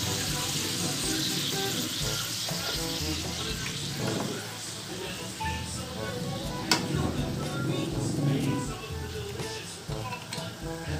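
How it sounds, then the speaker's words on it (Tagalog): Small splash of water poured into string beans (sitaw) cooking in a pan, setting off steady sizzling and frying hiss with soft stirring and clinks, close and continuous. "Lagyan lang natin ng konting tubig, mga kasipat, para medyo maluto yung gulay."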